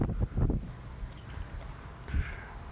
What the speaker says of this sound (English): But it's real windy